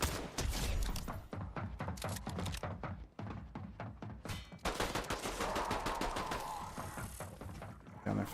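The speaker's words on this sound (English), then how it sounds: "Where are the bullets going?" Gunfire in the video game Fortnite, with loud, rapid bursts of shots close up. The firing is nearly continuous, breaking briefly once before resuming in dense volleys, and nobody speaks.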